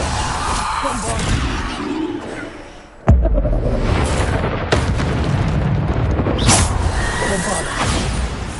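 A Bombarda spell explosion in Hogwarts Legacy lands as a heavy, close boom that cuts in sharply, followed by sustained rumbling blast noise and a second surge, loud and dense with game effects.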